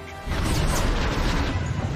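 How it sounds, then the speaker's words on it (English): A Star Wars The Bad Batch spaceship crashes into a forest in a loud, sustained smash and roar that starts abruptly and stays dense and crunching throughout. "My calculations have us crashing towards the upper forest region of the planet."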